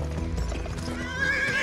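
A horse whinnies loudly while hooves clip-clop close by in the Western video game Gun.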